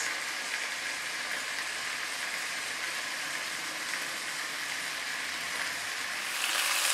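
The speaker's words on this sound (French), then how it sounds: "vous laissez mijoter jusqu'à ce que votre tranche de jambon cru soit joliment dorée sur les trois faces" A raw ham slice frying gently in a pan gives off a steady, close sizzle with fine crackle, constant throughout and swelling slightly louder near the end, with no talk.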